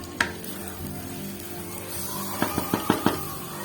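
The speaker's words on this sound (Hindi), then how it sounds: "अब हल्की आंच पे इनको थोड़ा सा हम भूनेंगे, इनकी भुनाई करेंगे बिल्कुल हल्की आंच पे।" Spices and four whole red chillies frying in a pan on very low heat for an egg masala: a soft steady sizzle, then a quick run of spoon knocks against the pan while stirring.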